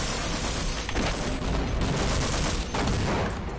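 Sustained bursts of gunfire from the video game Half-Life, a dense, continuous rattle of overlapping shots lasting the whole moment, loud and close with no voices.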